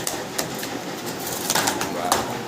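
A male and female pigeon pair coo softly and close by in short, uneven bursts, with faint rustling between the calls.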